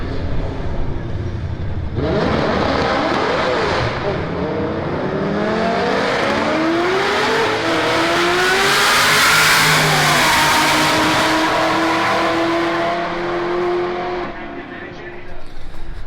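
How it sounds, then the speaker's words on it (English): Loud engines roar and rev as cars accelerate hard at a street car drag race, including a twin-turbo LS 240SX, pitch climbing through several gear changes before easing off; a voice is heard beneath. "Drift car meets drag race."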